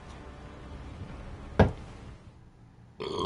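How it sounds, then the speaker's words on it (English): A single short, low burp erupts sharply midway through, close and loud against a quiet background, followed by a lull and then a burst of other noise. "I'd be burping"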